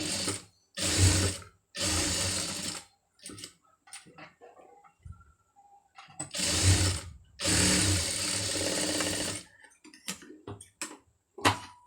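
Sewing machine stitches a sleeve seam in short loud bursts of rapid whirring, several runs of a second or so with quiet pauses and small mechanical clicks between them.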